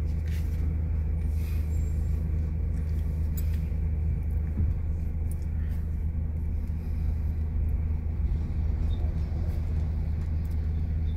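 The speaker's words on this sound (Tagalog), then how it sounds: "talagang hindi nagbabago yung traffic" Road traffic on EDSA in Manila, between Guadalupe and Terminal 3, a steady low rumble of cars and buses with occasional brake hiss, continuous and fairly close, with no talking.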